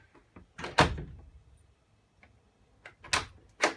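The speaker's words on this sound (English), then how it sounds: "And our door should close." An interior door is swung shut on newly hung hinges, giving a few sharp knocks and latch clicks spread out over several seconds in an otherwise quiet room.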